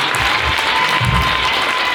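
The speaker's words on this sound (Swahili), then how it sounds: "Au makofi si ya kumpa God jamani." A church congregation claps in a steady, dense burst of applause that fills the space for a couple of seconds, loud and continuous with no voices on top.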